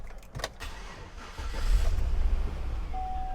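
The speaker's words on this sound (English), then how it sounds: "The car starts right up" A Chevrolet Suburban's engine cranks briefly after a few clicks, then catches and settles into a low, steady idle rumble, heard close up from inside the vehicle.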